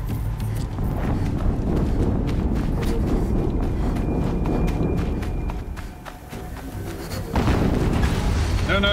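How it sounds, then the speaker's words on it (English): Heavy booming explosions in the Horizon Zero Dawn video game rumble through a dense, loud game soundscape, with a brief dip before another strong blast returns near the end. "Another explosion."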